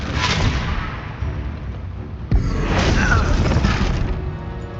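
Confringo explosion spell in Hogwarts Legacy during a fight with poachers: a rumbling blast, then a sharp cracking impact midway followed by a loud sustained boom and debris, with voices faintly mixed in.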